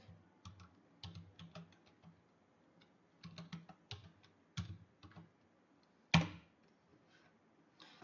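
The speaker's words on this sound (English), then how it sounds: "Now we should type BlueStacks." Typing on a computer keyboard, faint, quick clusters of light key clicks in irregular bursts, with one louder key strike near the end, heard close up with no talking.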